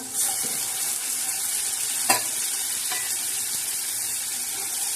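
Chana dal sizzles steadily as it fries in a hot pan for a sweet-and-sour raw mango chutney, a continuous bright hiss with a few brief clinks of stirring, close and alone with no talk.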